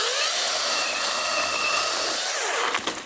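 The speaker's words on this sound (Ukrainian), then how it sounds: "робота йде у малесеньку пилку одноручну, саму маленьку. І поїхав." A small one-handed Grösser cordless battery saw cutting into a walnut tree, a loud, close, high-pitched whine held steady at full speed, then easing off as the cut finishes, with no talking.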